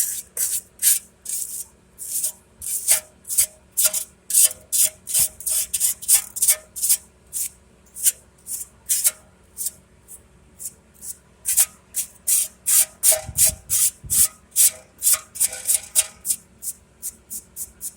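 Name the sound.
wire brush scrubbing brake mounting surfaces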